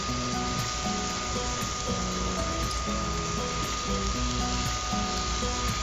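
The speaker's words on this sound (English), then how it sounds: "You can hear the sizzle, so it's as good as cooking in a house" Onions sizzling in a pan on a BioLite CampStove 2 wood-burning camp stove, a steady close hiss with a faint mechanical whir underneath, no talking.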